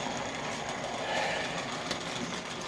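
A Jinty locomotive on a Dublo 3-rail OO model railway runs with a steady close whirring and rolling rattle, a continuous mechanical drone with small clicks of wheels on track.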